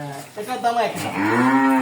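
Indian Red Friesian heifers on a dairy farm give a drawn-out, close moo that rises into a fuller bellow, carrying on steadily with no one talking.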